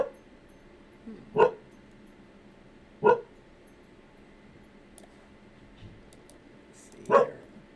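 A dog barks three separate times at a moderate distance, each bark short and spaced a couple of seconds apart over a quiet room background.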